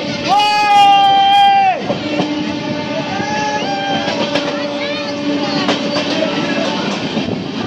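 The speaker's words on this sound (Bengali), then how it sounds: "এই অমৃত ভারত এক্সপ্রেসটা নির্দিষ্ট গতিতে চলতে শুরু করেছে।" The Amrit Bharat Express, on a Malda to Bangalore run, opens with a loud tonal blare that stops sharply. A steady, loud rolling rumble of the moving train follows, with faint rhythmic clatter and squeal-like tones.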